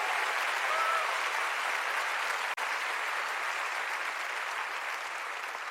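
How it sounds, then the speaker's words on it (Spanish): Dense, sustained applause from a large church congregation fills the space, an even wash of clapping that carries on without pause, briefly cut once, with no talk over it. "Dale fuerte el aplauso al Señor y créele."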